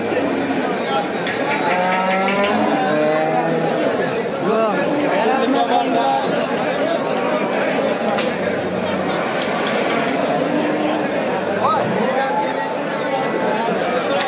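Cattle moo repeatedly amid a busy cattle market in Bo'ka district, Tashkent region, Uzbekistan, with crowd chatter and voices running throughout.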